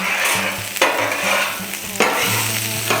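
Asparagus spears cooking on a grill give a steady close sizzle, punctuated by a few sharp knocks and scrapes of a utensil moving them around, with no voices.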